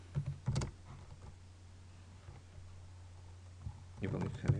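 Fingers tap out commands on a computer keyboard in short clicking bursts at the start and end, with a quiet pause between, close and soft over a low steady hum.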